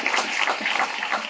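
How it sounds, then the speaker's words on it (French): A church congregation applauding at a Sunday worship service, heard as a brief, dense wash of clapping that is steady and fairly loud for just over a second. "on a demandé l'église là capable d'applaudir"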